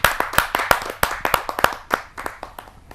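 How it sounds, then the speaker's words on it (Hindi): A kavi sammelan audience claps in a brief burst of sharp, uneven hand claps that thins out and fades over a few seconds. "आप सबकी जोरदार तालियों के माध्यम से"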